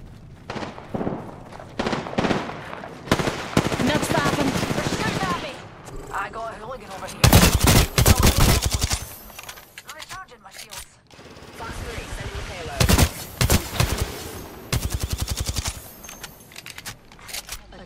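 Bursts of gunfire in the video game Apex Legends come in rapid volleys separated by short pauses, mixed with in-game voice lines and clicks.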